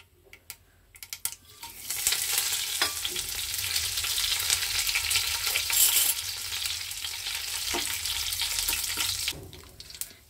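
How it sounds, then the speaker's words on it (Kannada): Mustard seeds popping in hot coconut oil for a tempering, a steady close sizzle with scattered sharp crackles and pops that builds and then fades, with no voices. "ನೋಡಿ, ಸಾಸಿವೆ ಹಾಕ್ಕೊಳ್ಳೋಣ. ಸಾಸಿವೆ ಚಿಟಪಟ ಅನ್ನುವಾಗ"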